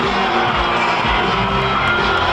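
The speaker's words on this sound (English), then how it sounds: "Crowd back into it in Green Bay" A football stadium crowd in Green Bay, Packers hosting the 49ers in 1996, roars in a dense, continuous wash of cheering and shouting, loud and steady throughout with no breaks.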